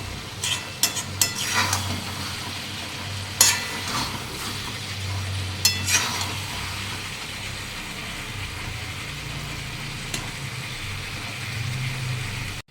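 Chicken kosha stir-fried in oil as its liquid cooks down: a steady, close sizzle with repeated scraping strokes of a spatula against the pan, a few sharper clanks, continuing for the whole stretch with no talking.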